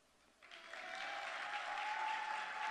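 Audience applause rises after a child's Easter speech at a church kids' Easter program, a steady close wash of clapping swelling after a quiet start and holding strong to the end, with a faint tone running underneath.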